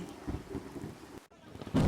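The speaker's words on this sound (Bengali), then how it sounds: "এই ঝড় বৃষ্টির মধ্যে আমার গাড়িটা নষ্ট হয়ে গেছে" Steady rain with low rumbling thunder on a stormy night, a brief near-silent gap, then a loud burst of storm noise at the end, in a cartoon.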